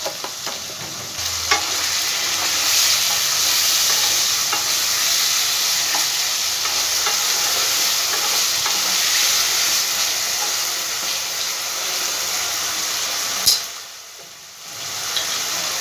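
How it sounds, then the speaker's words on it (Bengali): Potatoes with salt and turmeric fry steadily in a pan for a Bengali banana-flower dish, giving a continuous broad sizzle with occasional stirring scrapes, then a brief clatter near the end before the hiss quiets. "হলুদ দিয়ে আলুটাকে আমি একটু ভালো করে ভেজে নেবো আগে"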